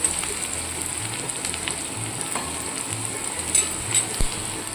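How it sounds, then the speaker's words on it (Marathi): Onion frying in oil until reddish for Maharashtrian pithla, a soft continuous sizzle close by with a few light clinks and stirring sounds toward the end, no voices. "कांदा पण आपला असा लालसर असा भाजत आलेला आहे"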